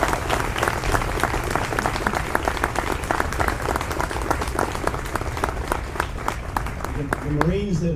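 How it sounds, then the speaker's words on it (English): An audience at the Marine Barracks ceremony gives a round of applause for the Marines. Dense, loud clapping holds steady from start to finish, and voices rise briefly at the very end. "I just ask you to join me in a round of applause"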